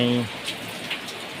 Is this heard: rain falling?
yes